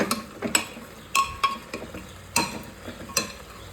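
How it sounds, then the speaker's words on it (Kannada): Mutton fries in hot oil in a pan, a soft steady sizzle broken by sharp, irregular clatters and scrapes of stirring, close and moderately loud, with no voices. "ಒಂದು 5 ನಿಮಿಷ ಎಣ್ಣೆಲಿ ಉರಿಯೋಣ."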